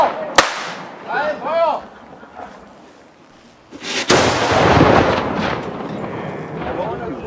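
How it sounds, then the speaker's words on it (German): Two heavy cannon blasts ring out at a Hagelberg battle reenactment, one sharp and early, another booming later with a long rumbling tail, amid shouting German voices. "Kanone 1, Feuer! Feuer! Feuer!"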